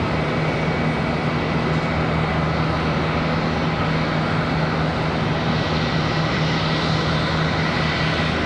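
A Southwest airliner at Charlotte Douglas airport taxis toward the end of the runway, its jet engines giving a loud, steady, broad roar at a distance that holds evenly throughout.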